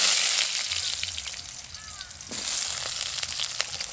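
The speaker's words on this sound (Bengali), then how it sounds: "আলু এবং রাঙা আলু কিছুক্ষণ নাড়াচাড়া করে একটু লালচে করে ভেজে নেব।" Potatoes and sweet potatoes frying in a wok make a hissing sizzle with scraping and stirring noises, fairly close, and louder again near the end. Faint talk may sit underneath.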